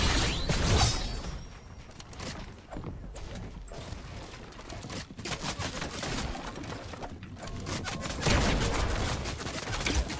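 Rapid pistol fire from the lock-on pistol in Fortnite amid a crowded fight, with a steady clatter of close shots and impacts running throughout, and louder bursts near the start and end.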